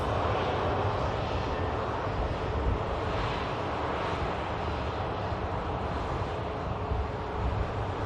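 A Luxair Dash 8 turboprop lands at Manchester Airport, heard as a steady broad roar of engine and rushing air with wind buffeting, continuous and fairly close, without talk.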